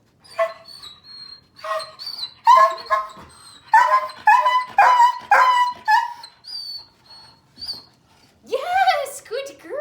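An 11-month-old German Longhaired Pointer, a Deutsch Langhaar, during force-fetch training gives a run of close, loud barks, whines and high yips in irregular bursts, ending with a rising whimper.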